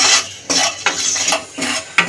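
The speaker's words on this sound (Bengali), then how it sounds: "দিয়ে হালকা করে ভেজে নেব মশলাটা।" Whole spices such as cumin, coriander, pepper, cardamom and cinnamon being dry-roasted and stirred in a hot empty pan, giving scraping and rattling bursts at a steady pace with no voices.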